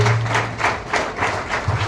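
Guests at a Christian church wedding clap in an even, rhythmic beat to welcome the bride and groom, the claps close and moderately loud.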